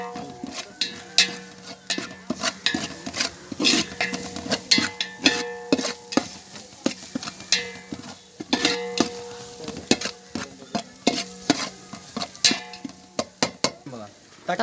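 A spoon stirs mutton biryani masala with salt and turmeric in a pot, giving repeated scraping and clattering strokes in an irregular rhythm over a soft sizzle.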